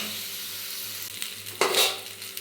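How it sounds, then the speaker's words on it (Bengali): Turmeric and green chili paste frying in a pan, a steady close sizzle with a brief louder scrape of stirring near the end, no talking. "এবার এটাকে সুন্দর করে লাল লাল করে ভেজে নেব।"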